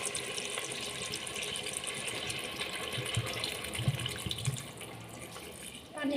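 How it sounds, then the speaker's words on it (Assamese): Water poured into a cooking pot while making a local chicken curry, a continuous splashing stream heard close up that eases off near the end, with a faint voice in the background. "এতিয়া মই ইয়াতে পানী দি দিছোঁ।"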